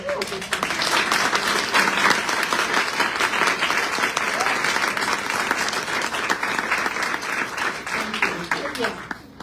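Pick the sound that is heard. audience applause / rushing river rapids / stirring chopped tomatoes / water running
audience applause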